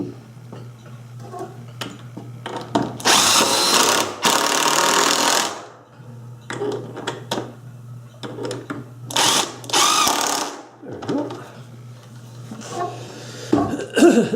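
A power drill drives three screws to secure a part on a homemade belt sander, giving several loud whirring bursts of varying length with clicks and handling noises between them.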